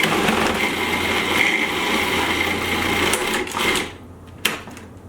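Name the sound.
food processor blending almond butter with mixed fruit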